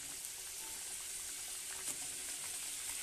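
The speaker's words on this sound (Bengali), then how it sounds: "ঝোলটা ফুটে গেছে, মাছগুলো এবার তুলে দিচ্ছি।" Fish curry gravy bubbling in a pan, a steady close sizzle and simmer with soft crackles, continuous and even throughout with no voices.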